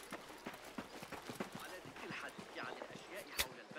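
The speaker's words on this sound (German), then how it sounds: "Läuft da einfach so ein Esel rum." Donkey hooves clip-clop in a rapid, irregular rhythm inside Assassin's Creed Mirage, set against a busy ambient game soundscape with voices in the background.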